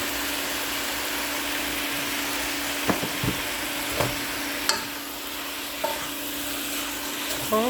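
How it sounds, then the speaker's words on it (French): Suya meat being stirred in a pan after tenderizer was added, with a steady background sizzle and occasional soft scraping and knocking strokes of the utensil, no talking. "je suis en train de remuer"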